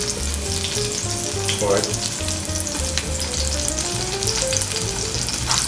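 Fish settling and frying in a pan makes a loud, continuous crackling sizzle close by, running steadily with a brief spoken word at one point.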